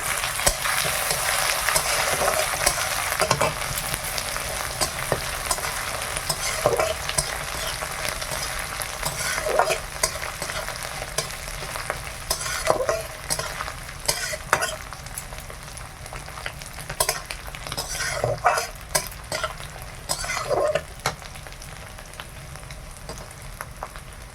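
Prawns fry in a pan over a village cooking fire, a steady, close sizzle that crackles throughout, broken by repeated scraping strokes as they are stirred at intervals of a few seconds.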